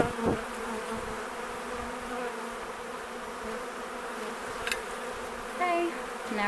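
Honey bees buzz steadily around an open Flow Hive during an inspection, a continuous close, moderately quiet hum with occasional individual bees droning nearer and handling knocks.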